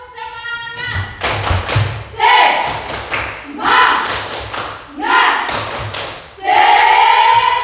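A school class performs the rhythmic tepuk semangat spirit clap: close, loud bursts of clapping and thumping in a set pattern, with children's voices chanting along between the claps.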